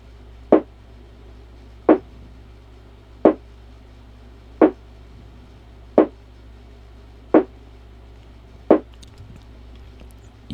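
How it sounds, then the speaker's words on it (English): An EQ'd snare drum hits alone at a steady, slow pace, eight crisp, dry strikes about every 1.4 seconds over a low, faint sustained pad. "we bring in this snare right here, which I do have some EQ on"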